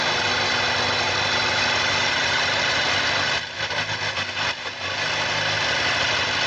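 A motorcycle engine idles at operating temperature during an oil pressure check, holding a steady mechanical drone with a brief dip partway through. No talking.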